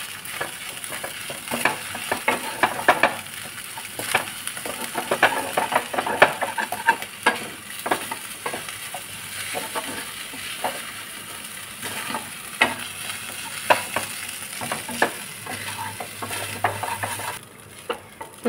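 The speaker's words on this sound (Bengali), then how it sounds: "তো এটা দিয়ে তোমরা কিছুক্ষণ নাড়বে" A utensil stirs Maggi noodles with chowmein frying in a pan, giving repeated scraping clinks against the metal over a soft, continuous sizzle, close by and with no talking.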